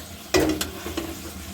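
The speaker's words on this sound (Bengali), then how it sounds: "এবার অন্য অন্যগুলো ভাজবো। কুমড়ো ভাজা, কলা ভাজা, আলুর দম সব করবো।" Pumpkin and banana pieces fry in hot oil in a pan, with sizzling and a few quick scraping stirs over a short moment, close and fairly loud.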